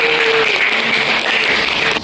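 A classroom audience applauding during a teaching practice session, dense continuous clapping from many hands, loud and close, lasting about two seconds.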